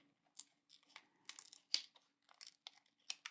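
Paper being cut out by hand for a glue collage: quiet, close, irregular snips and crinkles in short bursts, with no talking.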